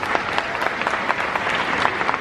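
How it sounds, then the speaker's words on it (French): Audience applause at the Moteurs... Action! stunt show at Disneyland Paris, a steady wash of many hands clapping from a large crowd, continuous and fairly loud throughout. "On peut l'applaudir, s'il vous plaît."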